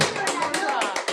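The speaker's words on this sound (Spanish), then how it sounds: "Den un aplauso a Cristo." A church congregation claps in a quick burst of applause during a sermon, with sharp, overlapping hand claps close and loud.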